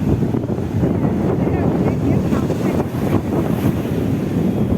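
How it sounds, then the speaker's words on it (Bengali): Rough sea surf breaking on a sandy beach with heavy wind buffeting the microphone, a constant loud roar of waves and gusts up close. "ঢেউ থামবে না"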